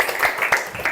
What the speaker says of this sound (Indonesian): Oke, tepuk tangan untuk Novan.